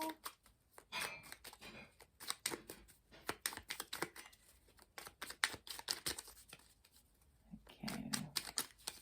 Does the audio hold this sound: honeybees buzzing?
no